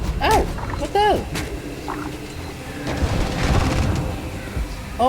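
Automated turrets fire in a Starfield combat encounter, a few sharp booming bursts scattered across a busy battle mix while someone talks and exclaims over the action.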